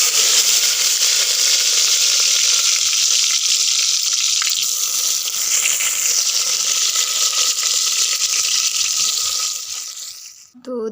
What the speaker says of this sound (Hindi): यहाँ सब्जी को लग गया है तड़का